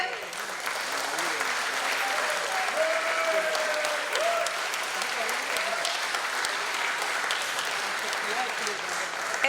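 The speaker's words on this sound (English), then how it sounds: "Let us put our hands together one loud time to cheer for" A large audience claps steadily at the Paytm (One97 Communications) stock listing ceremony, sustained dense applause filling a hall, with a voice faintly heard beneath it.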